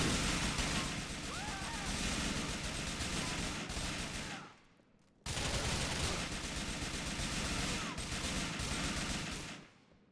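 Video game gunfire roars in two long, dense sustained bursts of rapid shots, loud and close, separated by a brief pause near the middle, with explosive crackle throughout.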